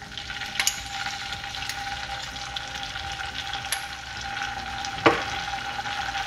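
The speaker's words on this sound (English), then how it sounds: "Now we'll add chopped garlic to it." Chopped garlic sizzles in melted butter in a pan for restaurant-style dal makhani: an even, close hiss with a couple of sharp utensil taps and a scrape near the end, no voices.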